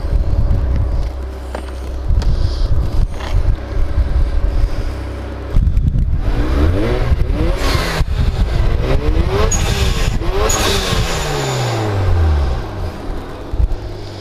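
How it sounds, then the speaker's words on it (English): Turbocharged 2005 Mazda RX8 fitted with a BHR mid-pipe and Turbo XS exhaust, revving loudly and close up with rising and falling sweeps of engine pitch, wind buffeting the microphone throughout. "It's got a beautiful sound with the BHR mid-pipe and the Turbo XS exhaust are a great combination."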